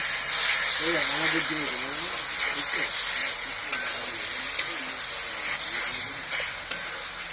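Fish spice paste frying and being stirred in a pan, a steady close sizzle with scraping strokes and a few sharp clinks, while a voice talks over it.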